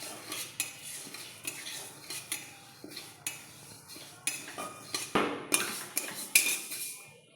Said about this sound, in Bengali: এই মুগ ডালটাকে আমি একটু ভেজে নেব।